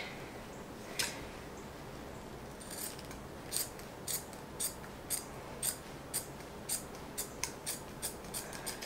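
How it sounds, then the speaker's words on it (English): Scissors cut shiny black applique material for a hoodie in a run of close, crisp snips, slow at first and then coming in a steady regular rhythm against a quiet room background. "So I'm just going to cut this evenly."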